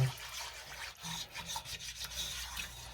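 Flour roux stirred steadily in a pan for creamy mac and cheese gives a continuous soft scraping and rubbing, close up, with no voices.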